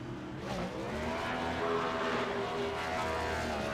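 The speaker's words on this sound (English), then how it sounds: "Listen to that engine burning it down here on the front stretch" Stock car engine in the iRacing video game roaring steadily during a post-race burnout on the front stretch at New Hampshire, a sustained droning rev with a faint, distant quality and no voices.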